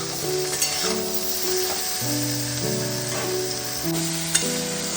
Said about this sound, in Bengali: এবারে হালকা একটু কষিয়ে নেব মশলাটাকে